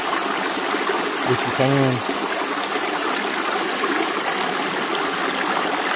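A creek flows with a steady broadband rush of water that fills the whole clip, fairly loud and close; a brief voice speaks early on over it.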